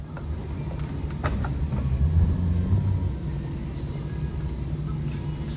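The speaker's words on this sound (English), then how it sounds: "This has to be one of my favorite airport people movers." The ExpressTram people mover runs at Detroit Metro Airport's McNamara Terminal with a steady low rumble and hum. Faint rattles and clicks come through it, and the loudness swells slightly mid-ride.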